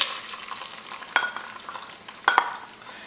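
Onions and carrots fry in oil in a Dutch oven on the stove, giving a steady close sizzle with two sharper bursts of crackle or stirring partway through, no voices.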